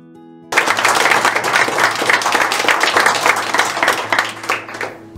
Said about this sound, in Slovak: ešte veľký potlesk pre hráčov Pulstaru